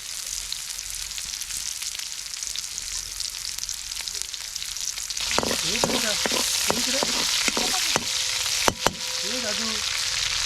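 Garlic frying in hot oil in a pan, a continuous close sizzle that grows busier about halfway through, with sharp clinks and scrapes of a utensil stirring; one voice talks briefly underneath.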